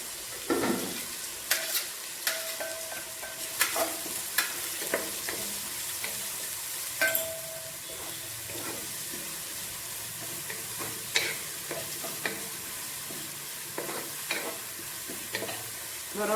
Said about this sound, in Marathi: वेजिटेबल आतां फ्राय करपाचे.